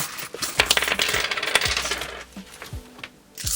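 Coins dropped and counted out by hand during a cash-stuffing savings challenge, a close series of metallic clinks and jingles, some bunched and some single, scattered through the clip.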